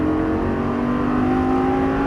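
A Lamborghini Gallardo Superleggera LP570 on a race track roars at full throttle, its engine note rising steadily and loudly, close and continuous, with no voices.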